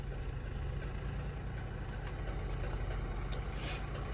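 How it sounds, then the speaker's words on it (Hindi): A tractor's engine rumbles steadily nearby on a road during a driving lesson, a low continuous drone at moderate volume with no speech over it. "ट्रैक्टर निकल जाने दो, रोक लो।"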